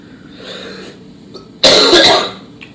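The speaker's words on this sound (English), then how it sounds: "where it's just a string of coughing." A single harsh cough bursts out loudly after a quieter throaty stretch, close and abrupt, then fades.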